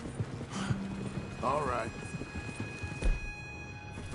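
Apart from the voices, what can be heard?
horses clip-clopping in a video game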